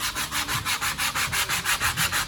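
Sandpaper of 80 grit rubs over filler on a Long EZ aircraft wing in quick, regular back-and-forth strokes, about five per second, close and scratchy, with no talking.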